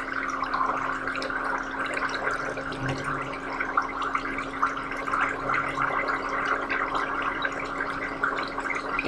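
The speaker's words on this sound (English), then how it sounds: "relax and massage your feet with the bubbles" A Homedics Deluxe Bubble Bliss foot spa churns water with steady, continuous bubbling over a low motor hum, even in level from start to finish.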